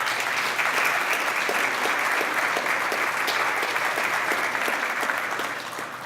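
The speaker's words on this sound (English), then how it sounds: "A round of applause for John Devine, please." An audience at a public policy forum claps steadily, a dense, close wash of many hands that holds for several seconds before tapering slightly at the end.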